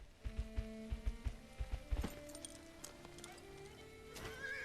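Hooves clop in a quick rhythm, then a horse lets out a loud whinny in an indie fantasy RPG, Echoes of Argora, with a low ambient game hum underneath.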